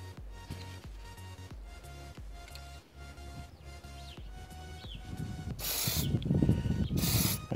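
Aerosol spray paint applied as a coat over a hydrographic finish: a rapid rhythmic clicking runs throughout, then two loud, close hissing spray bursts near the end.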